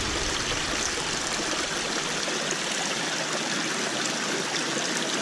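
Creek running high after rain, a steady close rush of flowing water that stays broad and even throughout without pause.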